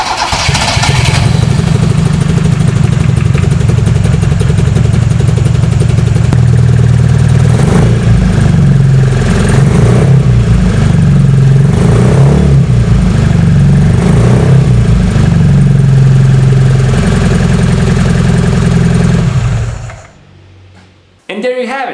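Toyota 4AGE engine cranks and fires, then runs with a loud, steady throbbing idle for nearly twenty seconds before shutting off abruptly.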